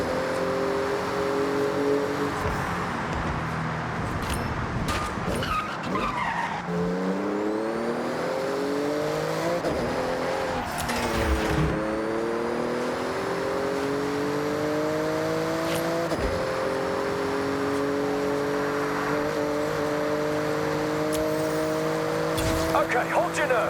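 A Porsche in Forza Horizon speeds through a speed zone on a Tokyo run, its engine loud and continuous as it revs up, shifts and climbs again over and over, with tire noise and a voice talking over it.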